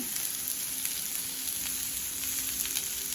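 Food frying on a cast iron griddle with wild rice, dandelion and key lime, a steady close sizzle and crackle running throughout with no talking.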